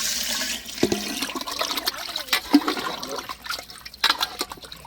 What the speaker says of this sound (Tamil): தேவையான அளவு தண்ணி சேர்த்துங்க.